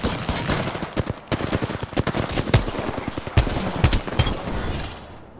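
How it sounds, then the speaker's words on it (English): Rapid automatic gunfire in a battle royale video game, with dense bursts of close, sharp shots in uneven rhythm across several seconds and no talk over it. "Firing on subjects."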